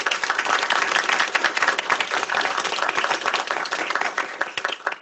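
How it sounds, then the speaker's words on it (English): An audience claps for a roundtable panel, a dense and steady burst of many hands applauding together for several seconds, fairly loud and with no voices over it. "Let's give them a hand, please."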